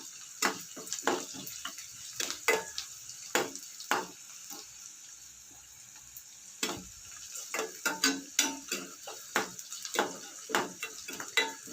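Sliced onions sautéing in a pan for eggplant chutney, a soft sizzle beneath repeated scraping and tapping stirs in an irregular rhythm, close but fairly quiet, pausing briefly midway before resuming.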